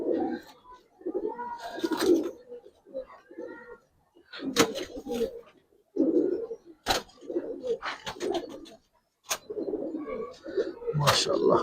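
Giribaz pigeons, including a red pair, coo in soft, throaty bursts up close, with wing flutters and clicks, while people talk over them.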